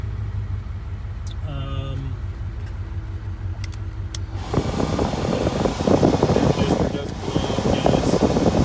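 A 1970 Mercedes-Benz 300SEL 6.3 starting: a quiet interior with a few faint tones, then the engine catches and settles into a loud, steady idle roar.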